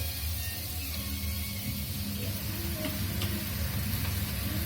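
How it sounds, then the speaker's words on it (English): Onions sauté in a pan in a home kitchen, a soft, even sizzle, low in level and steady for a few seconds, with faint clicks. "we are sauteing the onions now till it gets a little translucent"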